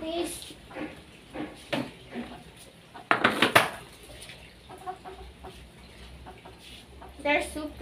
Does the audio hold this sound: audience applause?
no